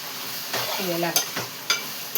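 Curry sizzling in a hot pan, with a steady frying hiss and a few sharp scrapes and clinks as it is stirred.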